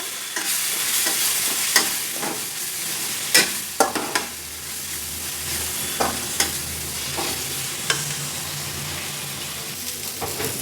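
Spice masala of coriander, chili and turmeric fries in a pan with a loud, constant sizzle, broken by repeated scraping and tapping of a spoon as it is stirred.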